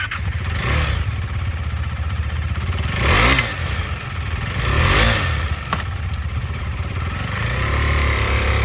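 A used 2020 KTM 390 Adventure with ABS, a lightweight adventure motorcycle, idles with a steady single-cylinder thrum and is blipped into two or three short revs that swell and fall back, recorded close with no talking.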